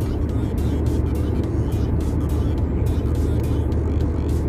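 A manual-transmission car pulls away after a gear change, its engine giving a steady, close, continuous drone with no break over the whole stretch.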